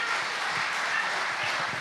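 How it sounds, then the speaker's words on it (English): Steady audience applause fills the room at a colloquium after a speaker finishes his talk, dense continuous clapping throughout without pause. "Please give him a resounding round of applause, ladies and gentlemen"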